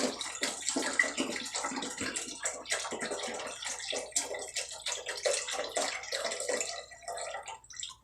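Chicken stock, a 32-ounce carton of broth, poured steadily into a soup pot for roasted tomato bisque, a continuous splashing, gurgling stream of liquid heard up close with no talking.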